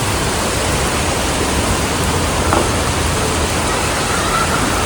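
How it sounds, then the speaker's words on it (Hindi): Heavy rain driven by strong wind, a dense, steady roar that holds at full loudness the whole way through with no letup and no voices. "बहुत तेज आंधी के साथ बारिश हो रही है आज।"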